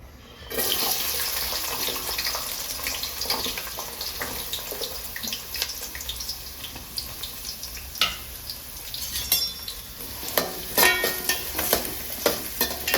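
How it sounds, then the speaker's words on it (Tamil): Shallots drop into hot oil for a fish curry and fry with a sudden loud sizzle that settles into a steady hiss, while a spoon stirs and scrapes against the pan with sharper bursts toward the end. "ஸோ எண்ணெய் நல்லா காஞ்சிருச்சு. இப்போ சின்ன வெங்காயம் சேர்த்துக்கலாம்."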